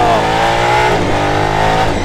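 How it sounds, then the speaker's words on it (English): Aston Martin Valkyrie racing engine revving hard on a circuit, a loud, sustained high-pitched wail that rises and dips slightly across about two seconds, close and continuous with no talk. "Oh, this engine just wants to rev."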